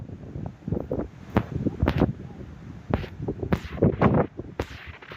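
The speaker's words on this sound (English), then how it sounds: "Holy cow, I told you it gets windy up here." Strong gusts of wind buffet the microphone high up at Lulumahu Falls on a Hawaiian hike, loud broadband roaring in repeated surges over about five seconds.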